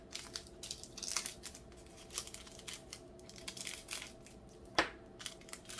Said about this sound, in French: Non, il me faut des ciseaux.